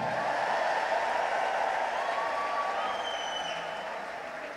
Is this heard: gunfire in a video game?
no